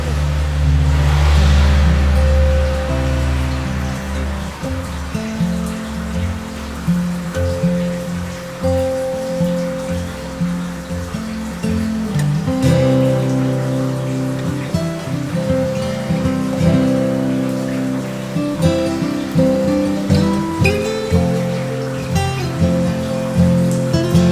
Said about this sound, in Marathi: खूप पाऊस इतकं पाऊस चालू झाला